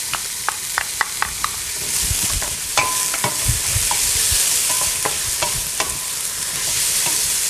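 Leek and onions sautéing in a pot as the base for a mussel soup: a loud, steady sizzle with repeated clacks and scrapes of a spoon stirring, close and continuous with no talk.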